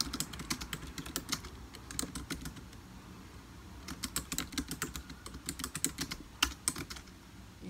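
Fast typing on a computer keyboard while a blog post is written, bursts of crisp key clicks with short pauses between them, close and clear with no talking.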